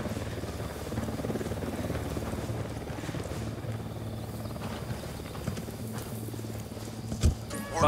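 Helicopter in the video game Ghost Recon Wildlands, a steady rotor throb droning throughout at moderate level, with a brief thump near the end and no voices.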